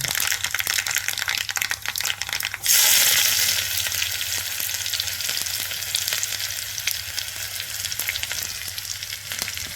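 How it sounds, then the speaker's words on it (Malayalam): Mustard seeds crackle and pop in hot oil, then a louder burst of sizzling follows as chopped shallots go in, settling into a steady frying hiss with scattered pops, close and without speech. "കാൽ സ്പൂൺ കടുകിട്ടു നമ്മുടെ കടുക് പൊട്ടി തുടങ്ങി"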